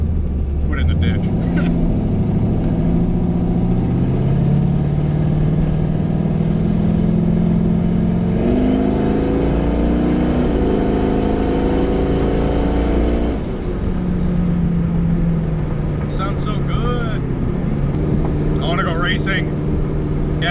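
A drag race car with a rebuilt TH400 automatic transmission drones steadily, its engine pitch climbing through a hard acceleration pull, shifting, then settling back to a rough idle rumble, close and continuous.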